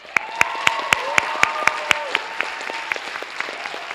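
Concert audience applauding the percussionists at a high school rhythm show: a steady bed of clapping with loud, evenly spaced close claps in a regular beat, and faint cheering in the room.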